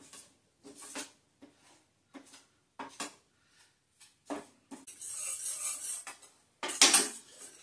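Unbleached organic all-purpose flour is browned in a pot for beef stroganoff, with sharp intermittent clinks and scrapes of a utensil against the pot and a longer rough scraping stretch near the end.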